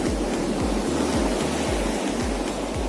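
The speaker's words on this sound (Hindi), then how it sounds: "और समंदर ही समंदर," Sea waves break and surge on an empty sandy beach at Dhabaleswar near Gopalpur, a loud, constant roar of surf with rhythmic low pulses as each wave rolls in.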